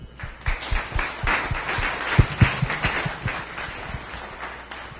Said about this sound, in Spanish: Muy bien, démosle un aplauso.